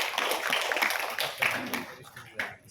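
Brief burst of audience clapping at a Samin festival gathering in Bojonegoro, a dense patter of hands lasting a couple of seconds, mingled with a speaking voice.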